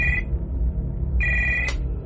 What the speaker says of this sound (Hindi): मेरा फोन फिर से बजा